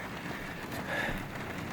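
Dense, steady hiss of heavy rain pouring down close by, with no voices, holding constant throughout.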